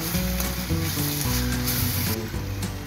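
Tomato, ginger, garlic and green chilli sizzle steadily in hot oil in a pan, a loud continuous frying hiss close by with a faint stir partway through, no voices.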